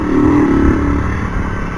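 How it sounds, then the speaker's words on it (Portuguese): A motorcycle engine fitted with a new exhaust pipe runs with a raspy, rumbling note, rising briefly at the start and then settling to a steady, slightly fading idle. "vocês vão escutar o barulho do cano que mudou, não é mais o mesmo barulho mais"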